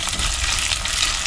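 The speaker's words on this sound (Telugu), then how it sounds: "దీన్ని కూడా చక్కగా ఫ్రై చేసుకోవాలి." Dried red chillies sizzle steadily in hot oil in a pan while tempering dal with methi seeds. The crackle is bright and continuous, close and fairly loud, with no voices.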